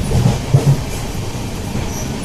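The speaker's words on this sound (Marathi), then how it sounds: "आम्ही महालक्ष्मी ट्रेन सोडणार आहोत" Low rumbling of the Mahalaxmi Express passenger train rolling along rails near Kalyan station, with a few soft thumps and steady broadband noise, close by and continuous.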